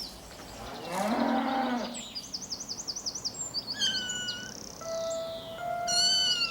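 A six-week-old tiger cub calls out with a rough bawl, then a series of wavering, warbling cries close by. Other high, chirping calls follow.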